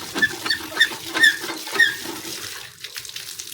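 Water from a hand pump splashes and patters in rhythmic bursts as hands are washed outdoors in a village, close and fairly loud, then trailing off into quieter drips.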